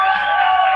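Crowd cheering and whooping at a live radio show at a fair, welcoming celebrity guest Kevin Costner; a steady, loud wash of voices with no breaks across the short moment.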